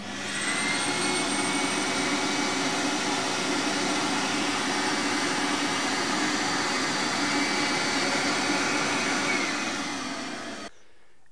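An escalator cleaning machine runs on a moving travelator with a steady, loud, close whirring roar of motor and brushes that holds for about ten seconds, then cuts off abruptly.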